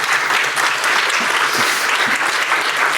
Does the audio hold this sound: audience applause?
yes